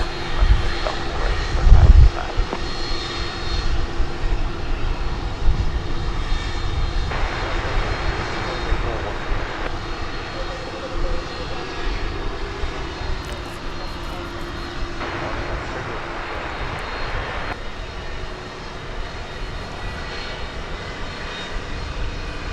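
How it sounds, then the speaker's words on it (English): An MD-11 airliner pushing back at night at DFW Airport, a steady broad aircraft engine rumble holding throughout with brief faint swells, fairly distant and continuous. "we've got our second MD-11 of the night backing out"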